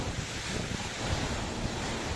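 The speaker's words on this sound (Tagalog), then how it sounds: "nakabibinging hangin ang humampas sa iba't ibang bahagi ng Cagayan sa pananalasa ng bagyong Ophel" Strong wind from Super Typhoon Ofel lashing Cagayan, a loud, steady roaring rush with turbulent gusts and no voices.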